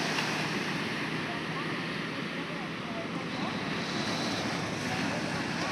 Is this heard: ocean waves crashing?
yes